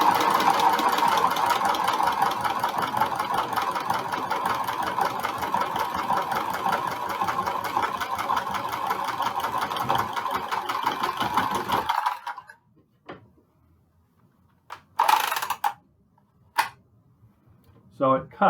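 Cordless pipe cutter cutting 1-inch pipe, a steady whirring motor hum running close for about twelve seconds before stopping abruptly, followed by near-silence broken by a few brief bursts and clicks.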